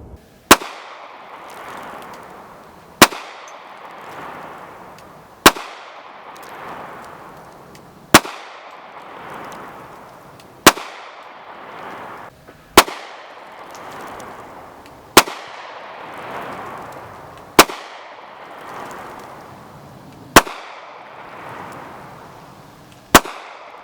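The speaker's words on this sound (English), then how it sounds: "We're going to shoot some self-defense loads, some Hornady critical defense in both handguns." Handgun shots from a Taurus G3 and a Ruger Security 9 firing Hornady Critical Defense 9mm self-defense loads, ten sharp loud reports spaced about two to three seconds apart, each with a short echoing tail and no talking.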